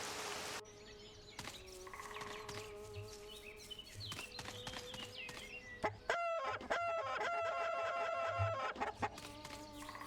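Chickens cluck and a rooster crows in a farmyard in the video game Disgraced, with steady clucking throughout, an insect-like buzz in the background and a louder burst of fowl calls near the end.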